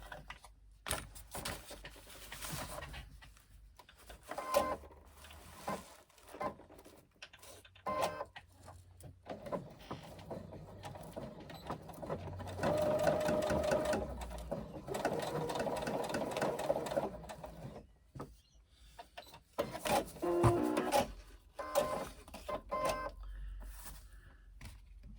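A sewing machine bastes fabric in place with a 1/8 inch seam, running in bursts of varying length, stopping and restarting between runs of steady mechanical stitching, close and moderately loud, with no voices.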